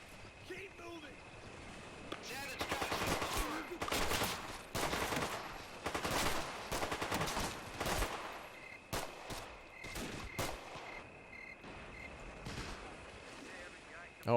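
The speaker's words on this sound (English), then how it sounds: "Oh, I hear the machine guns." Bursts of rapid machine gun fire and scattered shots in the WWII strategy game Men of War: Assault Squad during a Guadalcanal airfield battle, clustered and intense, then thinning out to sporadic distant reports.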